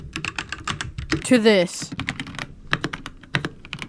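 A keyboard being modded clatters in quick, irregular keystroke clicks throughout, with a person talking over part of the typing.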